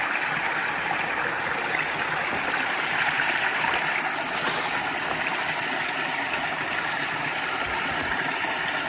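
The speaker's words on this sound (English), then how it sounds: "There's some water cascade in there too." A small water cascade tumbles through a stream beside a hiking trail on the Ouachita Trail. Its rushing, even wash of water sounds close and constant, with no pauses.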